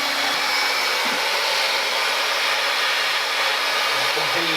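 A heat gun blows hot air on a DIY pond skimmer, producing a steady, close, loud whooshing hiss with a constant motor whine and no pauses.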